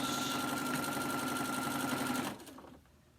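A sewing machine stitching a mini quilt runs in a steady, fast mechanical rattle for about two seconds, close and clear, then stops abruptly and the room falls quiet.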